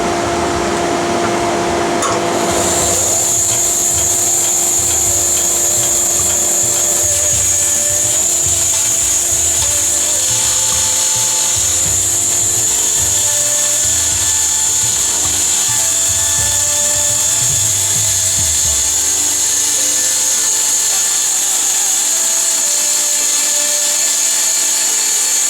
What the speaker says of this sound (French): je vais vous montrer une partie à la scie à ruban